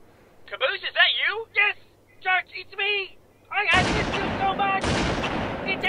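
Gunfire from Red vs Blue, made in the Halo video game, comes as loud, dense continuous shooting after several lines of talk, sustained for the last couple of seconds with a brief break.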